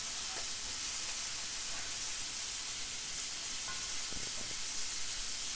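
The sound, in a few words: food browning and sizzling in a pan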